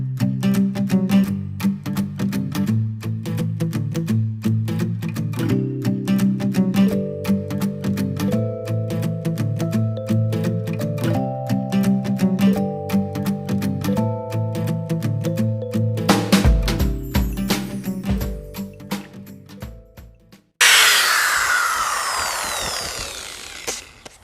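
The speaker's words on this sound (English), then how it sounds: "Now I can go ahead and get them sanded down smooth." A power sander grinds steadily and loudly across epoxy-coated wood, its tone wavering as it moves, before cutting off into a burst of harsh broadband noise.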